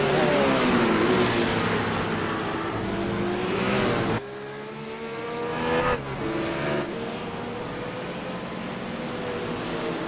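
Race cars in the iRacing sim, Blancpain Endurance series, roar continuously with engine tones rising and falling through gear changes and braking into a corner, loud and close throughout.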